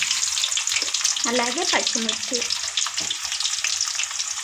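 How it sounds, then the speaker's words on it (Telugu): Onions dropped into chicken frying in a pan give a steady, loud sizzle with stirring throughout, while someone speaks briefly over the crackle. "ఇప్పుడైతే ఉల్లిగడ్డ చికెన్కి వేస్తున్నా."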